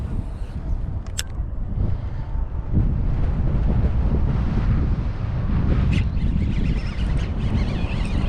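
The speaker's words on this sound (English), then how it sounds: "The wind's not dying down very well." Wind buffeting a microphone out on open water from a fishing kayak in spring, a steady low roar close up with gusty swells throughout.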